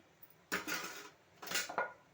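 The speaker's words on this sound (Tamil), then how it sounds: "அப்படியே கலக்கி விட்டு" Two bursts of scraping, clattering kitchenware, like a spoon stirring inside a pot, with a quiet pause between them.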